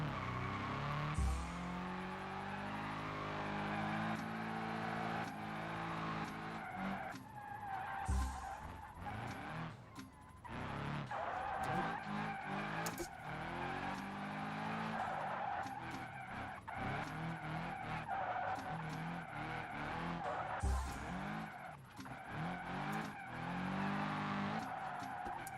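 A car skids out after taking a corner far too fast with too much angle, a long continuous tire squeal and engine roar running loud throughout, with brief harsh bursts along the way.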